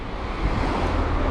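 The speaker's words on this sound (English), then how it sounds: "yeah, it's really windy." Steady roaring wind buffets the microphone while cycling outdoors, a constant broadband rush with no talk.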